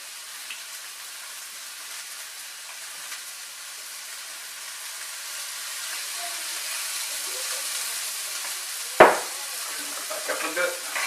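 Chicken searing in olive oil in a pan gives a steady, soft sizzle that builds slightly over the clip, with one sharp clatter near the end and a few light taps after it.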